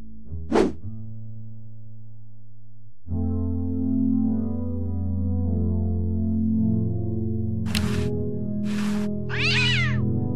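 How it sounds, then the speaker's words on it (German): A cat meows in the video game Day of the Tentacle Remastered, one sharp meow over quiet music, then a steady game music bed with several cartoonish meow and squeal effects near the end. "Hört sich an, als hätte die Katze eine Maus gefangen."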